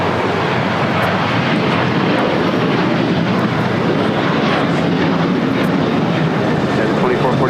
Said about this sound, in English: This is Alaska Airlines 1352 taking off to San Jose, Costa Rica on a 737-800.